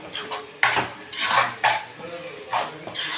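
A ladle scrapes and clanks against a cooking pot as chicken curry masala for Krishnagiri country-chicken semi gravy is stirred, with a few metallic bursts and a voice speaking in the background.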